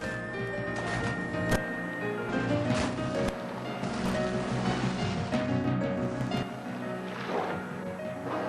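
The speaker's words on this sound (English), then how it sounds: "Ocean swells build all around." Ocean swells and surf rolling outside a reef off Moorea, a broad continuous wash of water with surging swells rising and falling, close and fairly loud, no voices.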